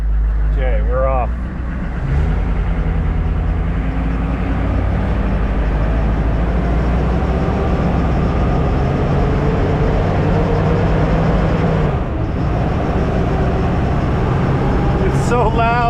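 Hummer Humvee H1 with a 6.5 Detroit diesel, suffering low-power fuel starvation, pulls away inside a large warehouse, a loud steady droning engine rumble heard from the cabin throughout, with brief voices near the start and end.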